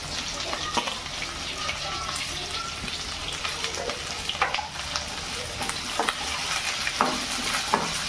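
Onions frying in a pan for a hotel-style paneer chilli, with chopped chillies already in, a steady sizzle broken by repeated scraping stirs of a spoon, close and fairly loud, with no talk.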